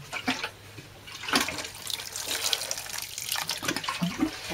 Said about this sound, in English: what I'm going to do is I'm going to give it a quick water before I sow the seeds.